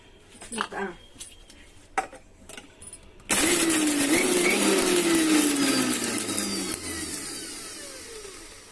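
An electric mixer grinder loaded with garlic and cumin roars to life after a few clinks of handling. It whirs loudly and steadily as the motor pitch slides down, and a voice speaks briefly before it starts.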